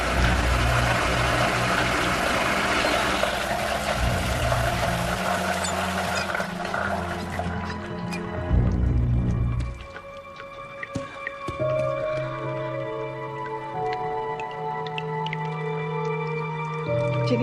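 Strange low groaning and droning tones with gurgling, squishy water noises, sustained and fairly loud, then fading to quieter creaks and drips.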